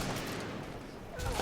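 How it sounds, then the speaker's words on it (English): Enemy laser gunfire in Titanfall 2 crackles in a steady, moderately quiet stream of overlapping shots, swelling louder near the end. "They shoot lasers!"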